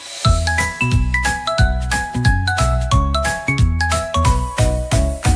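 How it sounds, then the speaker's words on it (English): Bright bell-like chimes ring out in a repeating melodic pattern over a rhythmic backing in a children's alphabet rhyme song, loud and close, with no talking. "bell rings morning, noon and night"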